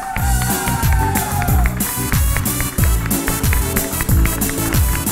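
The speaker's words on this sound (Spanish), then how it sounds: "¡Fuerte el aplauso!" Studio audience on a Latin television show applauding and cheering as a singer is introduced, crowd clapping and whoops mixed under loud, punchy music with a strong repeating beat throughout.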